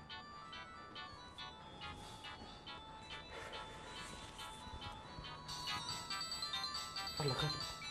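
A telephone ringtone plays as a steady, melodic electronic tone pattern indoors. It continues for the whole stretch and grows slightly louder near the end, with voices talking over it.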